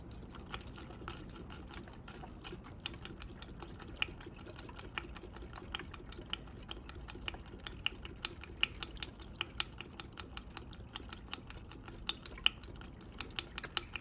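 Screen wash fluid is poured into the reservoir of a 2013 Mercedes A 200 W176, a faint, steady liquid trickle with soft, irregular drips and glugs.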